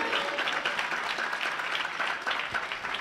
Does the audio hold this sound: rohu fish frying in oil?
no